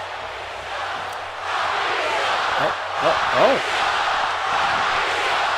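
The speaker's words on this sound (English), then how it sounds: "Crowd chanting Rocky sucks in the Cajun Dome." Video game crowd in WWE 2K18 chanting "Rocky sucks" inside the Cajun Dome, a steady broad roar of many voices with rhythmic swells, partly under a commentator's talk and a short exclamation.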